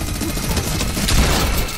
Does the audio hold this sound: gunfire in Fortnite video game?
yes